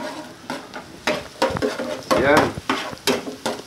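Garlic and ginger sizzle and crackle in a hot pan, stirred in repeated scraping bursts, close and fairly loud, with a brief word spoken over the frying.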